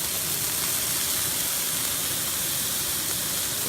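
Onions and mushrooms frying in grease on a camp grill, a steady loud hiss and sizzle, continuous and close with no pauses.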